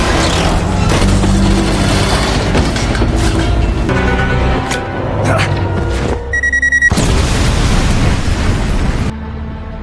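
A bomb blast in an action film comes through as heavy booming bursts and debris crashes mixed with dramatic score, with voices heard over parts of it.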